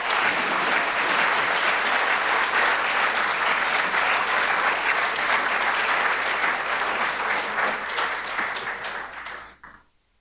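Sustained, loud applause from a lecture audience follows a centennial physicians lecture honouring Dr. Michael DeBakey. It holds steady for several seconds before tapering off quickly at the end.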